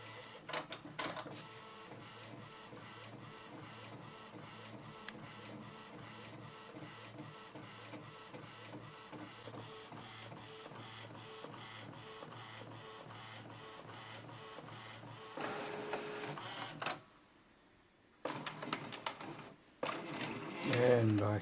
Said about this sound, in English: you can actually open the lid and you can see the printing inside and the print head moving